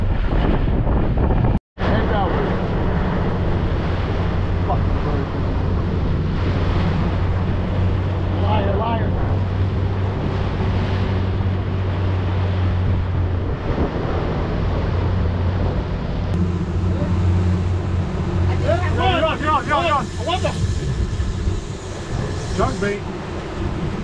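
An offshore fishing boat trolls slowly off Key Largo, Florida, its engine a steady low drone under heavy wind buffeting on the microphone, with some faint voices in the background.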